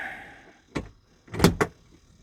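A camper door opening: a short latch click, then a louder clunk and rattle as the door swings and knocks, each sound brief and close in a quiet interior.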